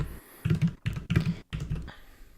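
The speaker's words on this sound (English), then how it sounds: "Why are you typing?" Several bursts of computer keyboard typing, keys clattering in quick uneven runs separated by short pauses, close and fairly loud with no talk over it.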